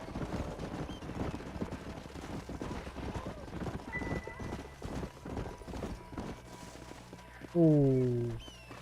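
Horse hooves clip-clopping at a riding pace in Red Dead Redemption, a steady rhythmic clatter under a man's speech and other voices, ending with a loud, close neigh from the horse.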